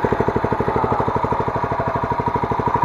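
A small engine drives a belt-driven plunger pump sprayer for weed spraying before the pressure is raised. It chugs loud and close at a fast, even idle rhythm and is heard alone.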